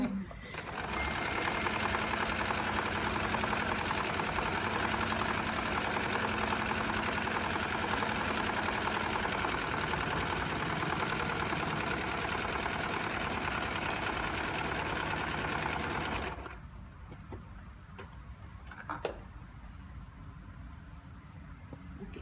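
Sewing machine stitching fabric in one long continuous run, a close, steady mechanical whir that stops abruptly, leaving quiet room sound with a faint click.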